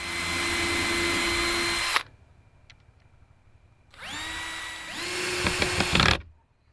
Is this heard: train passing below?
no